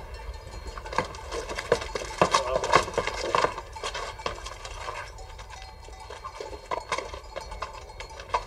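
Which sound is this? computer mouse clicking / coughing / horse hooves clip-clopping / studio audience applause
horse hooves clip-clopping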